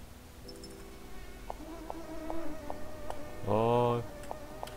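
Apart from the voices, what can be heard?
mosquitoes buzzing in a video game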